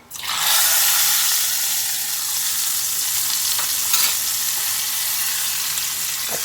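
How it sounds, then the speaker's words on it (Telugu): A loud, steady sizzle that flares up at once and keeps hissing strongly as a hot spice tempering is poured into tamarind stew in a pot. "పోపు అయితే పులుసులో వేసేస్తున్నాండి"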